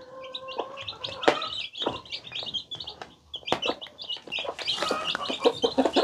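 Chickens cluck while small chicks peep in a steady, busy chorus close by, with a few louder sharp calls standing out and no talking.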